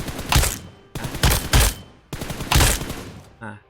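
Gunfire in PUBG Mobile, with three loud close bursts of rapid automatic shots, each lasting about half a second, separated by short pauses, then a faint metallic clatter at the end.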